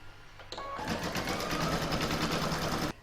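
Embroidery machine running an in-the-hoop decorative stitch along a join on a fabric scissor holder and pin cushion, a steady rapid mechanical whir with fast needle pulses, close and continuous for a few seconds before stopping abruptly.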